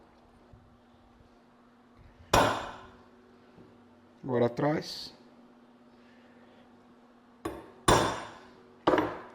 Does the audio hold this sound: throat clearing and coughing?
no